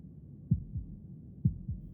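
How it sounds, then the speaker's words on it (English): Slow heartbeat from the video game Slay the Princess: two paired lub-dub thumps, deep and muffled, spaced about a second apart with a low hum between. "That was the sound of a heartbeat,"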